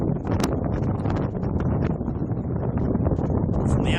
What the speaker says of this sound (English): From the outside, where it's super duper windy.